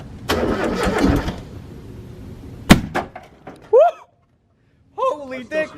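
A winter project car's engine cranks in a loud rough burst, then fires with a sharp pop in a garage, followed by excited voices talking.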